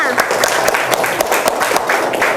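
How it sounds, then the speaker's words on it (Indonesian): Students in a classroom clap for group 2, a brisk burst of close, lively hand clapping with a few sharper individual claps, fairly loud and continuous over the short stretch. "Tepuk tangannya mana di kelompok 2 nih?"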